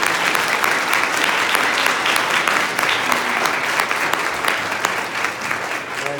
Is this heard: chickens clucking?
no